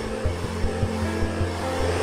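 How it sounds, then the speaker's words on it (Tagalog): A hair dryer-style blower fitted with small lights runs steadily with a constant whirring drone, close and moderately loud, with faint periodic pulsing throughout. "21K yung presyo ng ganung blower na may ilaw-ilaw"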